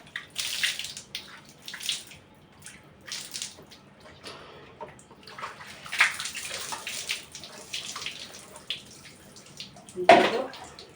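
Water is poured during a home bath, coming in intermittent close splashing bursts with quiet drips and gaps between pours, the last splash the loudest.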